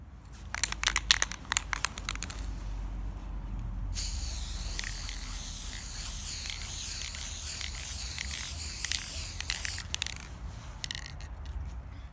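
An aerosol can sprays varnish onto paintings: a few crinkly clicks and rustles, then one long, close, continuous hiss lasting several seconds before the handling noises return.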